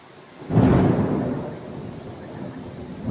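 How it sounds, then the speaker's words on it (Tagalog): Thunder from a thunderstorm rumbles in, a deep, broad boom swelling after half a second and then rolling away slowly into a low, lingering grumble. "Ang lakas ng kulog."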